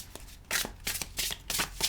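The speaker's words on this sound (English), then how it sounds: "Shuffling is pretty easy." Close-up shuffling of a tarot card deck: a few quick bursts of riffling cards in rapid succession, crisp and papery, with no voices.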